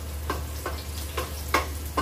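Garlic sautéing in a pan for chicken tinola, a steady sizzle with soft rhythmic scrapes of stirring about every half second, close and alone.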